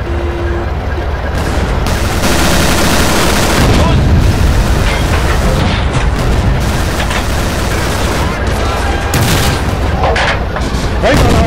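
Tank gun firing high-explosive shells in the game Steel Fury set at Kharkov 1942, loud booming shots and bursts over a constant heavy engine roar, with a few sharp blasts spread through the stretch.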